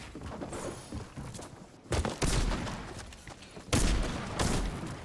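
Rapid bursts of gunfire in a squad battle-royale video game, several loud volleys separated by brief pauses, with no talk over them.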